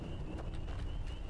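A horse in Skyrim Special Edition walks with a few soft, quiet clip-clop hoof steps against faint background wind.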